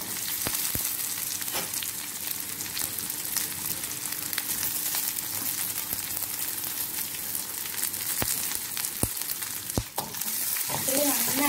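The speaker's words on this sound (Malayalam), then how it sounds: "ഉള്ളി നന്നായിട്ട് വഴറ്റിയിട്ട് വേണം ഇടാം നല്ല ടേസ്റ്റ് ആയിരിക്കും കൊച്ചുള്ളി ഇട്ട് കൊടുക്കുമ്പോൾ" Small shallots sauté in hot oil with mustard seeds in a pan for a Kerala-style beef curry, a steady close crackling sizzle with sharp pops and a spoon scraping, under quiet talk.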